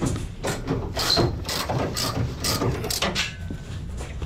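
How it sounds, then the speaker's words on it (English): A ratchet working old 1980s bolts out of an RX7 subframe, a steady series of close, rough clicking strokes in an even rhythm over a garage background, with no talk. "I'm so amazed how nice these bolts are coming out of this."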